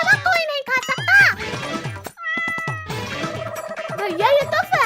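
A cartoon cat meows amid lively animated voices, several short bright mews mixed with character chatter and tinkling effects.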